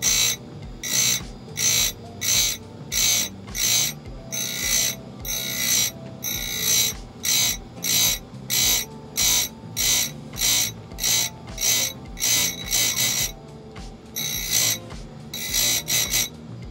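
An Oregon chain grinder regrinds a 3/8 chainsaw chain, its wheel dipping in a slow, steady rhythm of short, loud grinding bursts, each broken by a brief pause over a constant motor hum.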